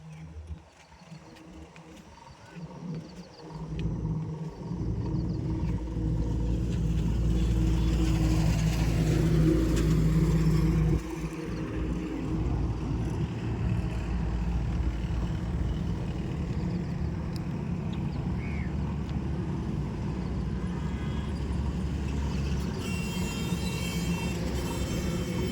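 A car creeping slowly backward in reverse gear gives a steady low engine drone close by, with a brief rise in the middle and a slight drop after, continuing evenly to the end.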